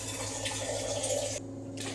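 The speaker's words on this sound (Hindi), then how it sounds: "और पानी डलेगा इसमें भी।" Water poured into a large wok of kadhi being cooked for a big communal langar, a steady continuous splashing pour that cuts off briefly near the end.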